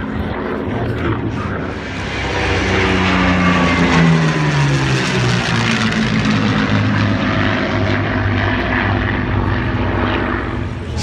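A large propeller aircraft passes at an air show, its droning engines growing louder and then falling in pitch as it flies by, loud and sustained throughout.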